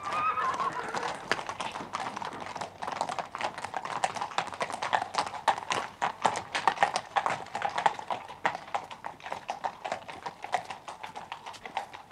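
Rapid hoof clip-clops at a steady trotting rhythm, moderately close, with a brief whinny-like tone near the start.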